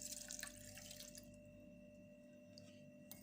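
Water poured into a pot for an herbal home remedy, a steady faint trickle and splash over a low background hum, fading toward the end with no talk.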